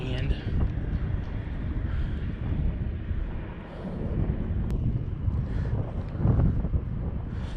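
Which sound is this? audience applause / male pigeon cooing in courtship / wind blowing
wind blowing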